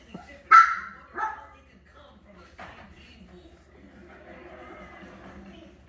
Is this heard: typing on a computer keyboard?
no